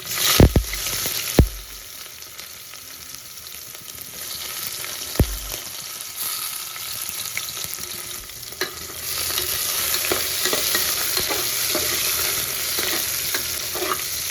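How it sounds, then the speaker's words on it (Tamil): Onions and green chillies sizzle loudly in oil in a pan for pulav, a steady frying hiss that holds for the whole stretch, with a few sharp scrapes of stirring near the start and no voices. "வெங்காயம் வந்து நல்லா வதக்கி எடுத்துக்கலாம்"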